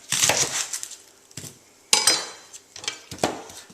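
Knife slicing half an onion thinly on a cutting board, a few separated bursts of crisp, crunchy cuts with sharp knocks against the board, close and clear with quiet gaps between strokes.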